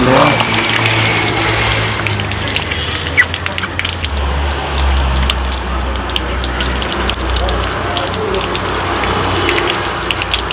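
Tap water runs continuously while a velvet apple is washed, a loud, steady gushing stream with some splashing, and a voice talks over it.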